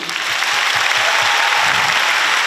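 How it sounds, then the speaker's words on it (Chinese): A concert audience at a live show in Taipei bursts into applause: steady, dense clapping that fills the hall throughout, loud and continuous with no voices on top. "请大家先给自己一个大大的掌声鼓励"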